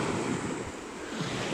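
Sea waves wash steadily onto Bulverhythe beach at St Leonards on Sea, a constant broadband surf wash mixed with wind buffeting the microphone, with no voices.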